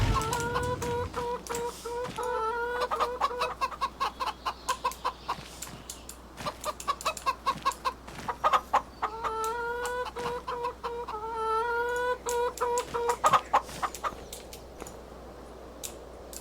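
Chickens in the Farming Simulator 25 video game cluck in a steady run of short, repeated calls, with rhythmic bursts that come and go over about sixteen seconds against a quiet farm background. A few louder clucks come near the middle and end. No one speaks.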